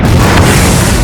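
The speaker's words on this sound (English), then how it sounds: "An explosion?" A loud explosion booms in the PS2 action game Gungrave: Overdose, a dense, sustained blast of rumbling noise that fills the moment with no speech over it.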